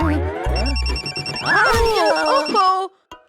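A cartoon telephone rings with repeated bright electronic trills, loud and close, mixed with exaggerated animated character voices and squeaky effects before cutting off abruptly.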